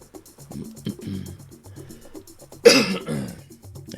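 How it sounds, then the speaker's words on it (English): A single harsh cough bursts out loudly near the mic, standing out over faint background murmur and soft low-level sounds. "I apologize for my cough."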